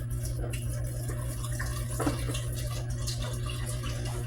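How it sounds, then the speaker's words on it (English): Tap water runs steadily into a sprouting jar being soaked for sprouts, a continuous close splashing fill with a faint clink midway. "So I'm going to go ahead and fill this up with water."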